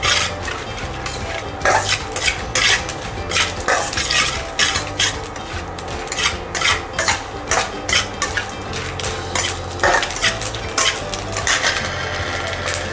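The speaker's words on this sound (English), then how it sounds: "Add oil, then add one by one red chilies, urad dal, chana dal. Roast it." Spoon stirring and scraping in a pan as red chilies, urad dal and chana dal roast in oil, with repeated metallic scrapes and clinks over a steady low sizzle, close and fairly loud.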